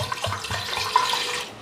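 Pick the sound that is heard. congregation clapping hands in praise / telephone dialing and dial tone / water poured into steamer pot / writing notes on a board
water poured into steamer pot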